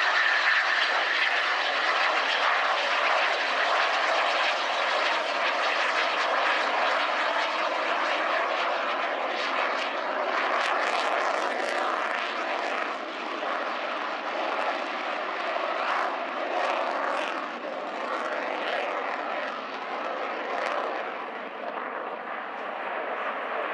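A Spanish Air Force Eurofighter Typhoon jet makes a slow pass at the RIAT airshow, its loud, steady engine roar rising and swelling as it moves overhead, with no talk over it.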